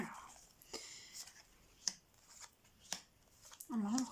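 Oracle cards are shuffled and drawn in a quiet room, with a few soft, scattered slaps and flicks of the deck spaced apart, and a faint murmured voice near the end.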